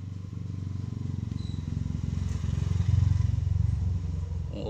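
A Scarlet Super hand mixer motor running on a repair bench during testing, giving a steady close buzzing hum with a fast rhythmic flutter that swells slightly midway.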